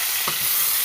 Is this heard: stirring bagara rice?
yes